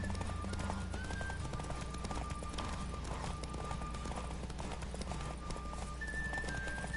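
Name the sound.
horse galloping hooves in video game Witcher 3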